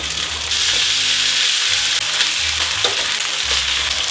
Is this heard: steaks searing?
yes